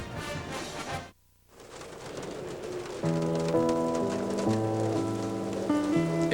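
Rain patters steadily on a surface for a few seconds, then gives way to a soft sustained musical tone, with pigeons cooing faintly.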